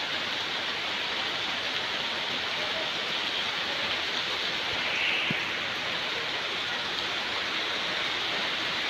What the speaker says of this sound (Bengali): ঝুম বৃষ্টি হচ্ছে এই মুহূর্তে।